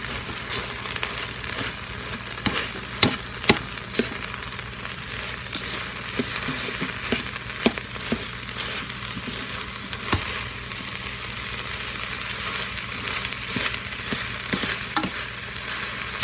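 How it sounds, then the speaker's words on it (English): Meat browning with onions and peppers in a pan for chili, a steady loud sizzle and fry with intermittent scrapes and clacks of a spoon stirring, close and continuous. "We're going to stir that up in there and let it brown, finish browning with the onions and the peppers"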